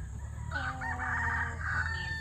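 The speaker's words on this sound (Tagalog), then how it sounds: "Ayan po yung mga manok na aking inaalagaan dito." Farm-raised chickens, with a rooster crowing a long cock-a-doodle-doo close by over a steady low background hum, and no talk.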